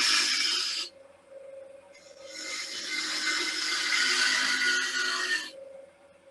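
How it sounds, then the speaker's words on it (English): A wooden wig stand being hollowed out on a lathe, with a gouge scraping and rasping steadily against the spinning wood over a constant motor hum, broken by short pauses between cuts. "we're going to start hollowing this out, going the other way"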